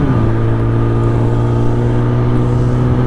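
A Kawasaki ZX-10R motorcycle cruises along a national highway, its engine a steady, loud, droning hum with a slight pitch drift and wind noise.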